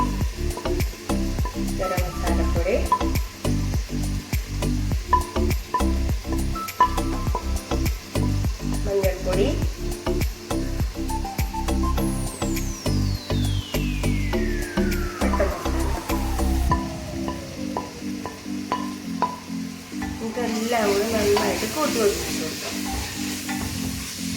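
Coriander powder and spices frying for mutton kurma, a continuous sizzle with many quick stirring scrapes and clinks, a siren sweeping by faintly partway through, no speech heard.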